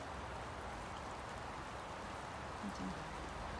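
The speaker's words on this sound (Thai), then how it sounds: "ลูกเห็บก็ตกจ้ะเพื่อน" Hail falls on a home garden planted with flowers and vegetables, making a dense, steady patter and hiss throughout, with a faint voice briefly heard near the end.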